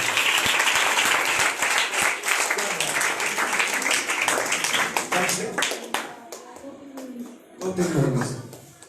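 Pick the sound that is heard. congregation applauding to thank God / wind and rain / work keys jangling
congregation applauding to thank God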